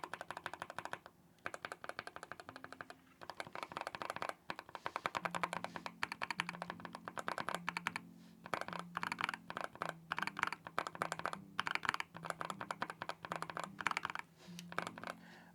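Typing on a Skyloong GK68s wooden-cased keyboard fitted with Gateron Oil King switches, some lubed and some not: a dense, fast run of close, crisp keystrokes with short pauses, heard alone.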